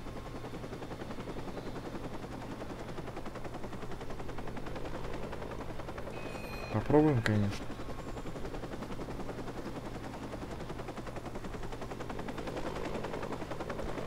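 Helicopter in the video game Watch Dogs, a steady rotor drone running throughout at moderate level, with a brief louder burst near the middle.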